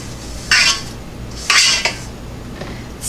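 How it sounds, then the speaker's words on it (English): A spatula scrapes the sides of a mixing bowl of lemon zucchini bread batter in three short, close, rasping strokes, with quiet pauses between them. "Then I just scrape down my bowl"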